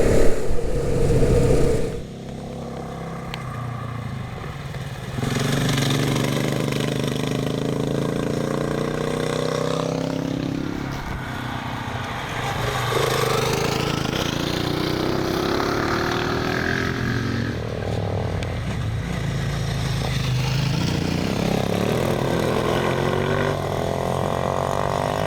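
A 500 motorcycle putting along steadily on an Australian adventure ride, its engine droning continuously at a fairly even, moderate loudness with slight swells in pitch throughout.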